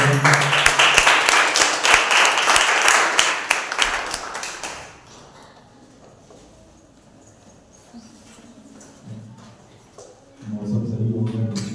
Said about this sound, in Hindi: आइए पवित्र परमेश्वर के लिए एक बार जोरदार तालियां।